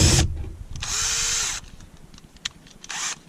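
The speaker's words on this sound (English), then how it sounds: "So, let's use the drill here," A power drill whirs in short bursts while tightening bolts on a Toyota Tacoma seat, two close, loud runs separated by clicks and handling noises.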